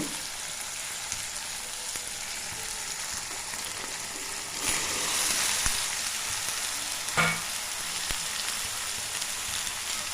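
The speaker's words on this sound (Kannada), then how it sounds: "ಹಾಕ್ಕೊಂಡು ಚೆನ್ನಾಗಿ ಫ್ರೈ ಮಾಡಬೇಕು ಫ್ರೆಂಡ್ಸ್" Bitter gourd pieces fry in a pan with already half-cooked onion, tomato, garlic and coconut pieces, giving a steady close sizzle with a brief louder burst of hissing midway and a faint stirring knock later.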